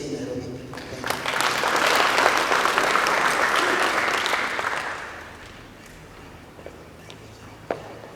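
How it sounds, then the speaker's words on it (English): Delegates at an annual association meeting in Nairobi break into a round of applause that swells, holds for several seconds, then fades to a quiet room with a few scattered claps. "Can you give another round of applause?"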